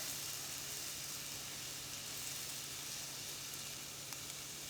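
Pancake batter made with coconut flour cooking in a pan on low heat, giving a soft, steady sizzle that stays even and continuous throughout with no voices.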